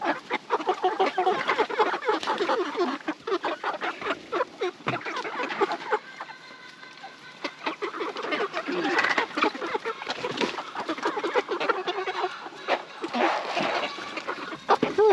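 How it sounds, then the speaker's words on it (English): Chickens on an off-grid homestead cluck and squawk in a busy, continuous chorus, close by, with a brief lull midway and occasional splashy rustling. "Hello, chickens."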